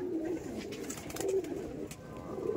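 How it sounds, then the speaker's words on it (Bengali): Pigeons coo in a loft, several soft repeated throaty calls close by, with a steady background murmur and no talk. "এই দেখুন পায়রাটা দেখুন, পায়রাটা দেখতে পাচ্ছেন"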